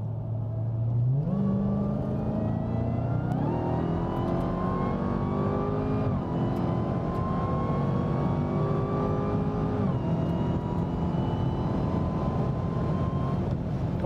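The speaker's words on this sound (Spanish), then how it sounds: "Ok, lo voy a acelerar una vez más." A 2021 Dodge Charger SRT Hellcat Redeye Widebody engine revs hard several times, its loud, close roar climbing and falling in steady repeated swells with no talking.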